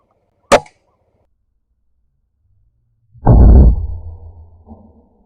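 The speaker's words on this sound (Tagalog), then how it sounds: "Dalawang putok." Two shotgun-like blasts during a hunt for wild rail and spotted doves outdoors: a sharp, close crack, then about three seconds later a heavier, booming report that rolls off slowly.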